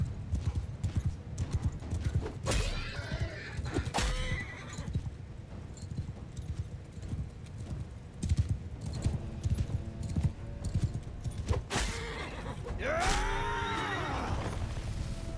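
Horse archers gallop in the Mount & Blade II Bannerlord battle game, with loud hoof clip-clop beats and several whinnies and neighs over a dense, continuous battle din.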